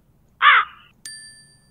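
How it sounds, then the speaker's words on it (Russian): A crow gives a single loud, harsh caw, close and clear, followed moments later by a bright ringing ding that fades away. "Покажи ворону."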